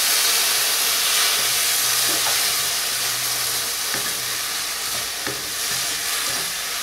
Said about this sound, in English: Now I'm going to mix all this evaporated milk in this.